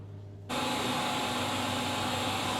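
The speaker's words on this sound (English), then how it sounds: "the spindle's in the machine and it's running, which is good news" A rebuilt spindle in a Haas VF3 CNC machine spins up abruptly from near silence into a steady, loud, broadband whirring drone with a faint tonal whine, holding constant to the end.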